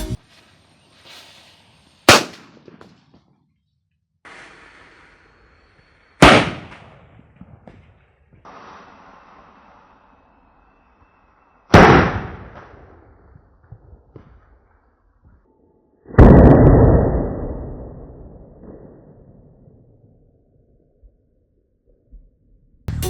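Homemade firecracker set inside a pumpkin and fired by an electric circuit, several very loud sharp blasts and cracks separated by quiet gaps, the last one a heavier boom with a long fading tail, close and without talking.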